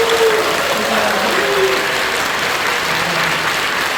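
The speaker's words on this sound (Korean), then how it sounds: "우리가 칠 수 있는 가장 뜨거운 박수입니다." A church congregation applauds loudly and continuously during a Korean worship service, a dense wash of clapping with faint voices mixed underneath.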